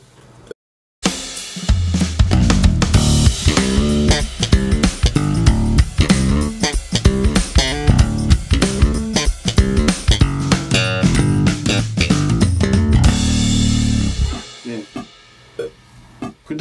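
Bass guitar played through the rear pickup alone, a steady run of plucked notes, loud and up front, closing on a held note that rings and decays; no voices.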